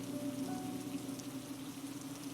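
Heavy night rain pours down steadily in a forest, a dense, even hiss with no breaks and no voices, at a moderate level.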